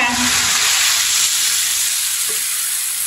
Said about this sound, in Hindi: आलू को भी दो मिनट के लिए मैंने पका लिया है